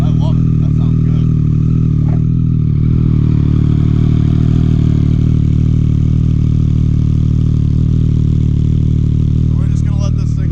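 A 2018 Triumph Street Triple R with an aftermarket Delkevic exhaust idles at close range. It gives a loud, steady, deep burbling drone that holds even throughout, with faint clatter at the start and end.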